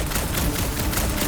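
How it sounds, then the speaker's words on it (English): Dense, continuous rattle of rapid gunfire in the Marvel's Guardians of the Galaxy video game on PS5, loud and unbroken like a sustained fusillade, with no talk. "A lot of smoke and gunfire!"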